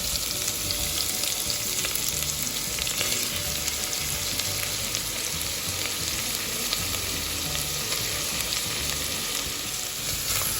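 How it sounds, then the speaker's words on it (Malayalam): Chopped onions frying in hot coconut oil for a chicken curry, an even, loud, unbroken sizzle and crackle close up, steady throughout with no voices. "ഇത് ചൂടാകുമ്പോൾ അരിഞ്ഞു വെച്ച ഉള്ളി ആദ്യം ചേർത്ത് കൊടുക്കാം"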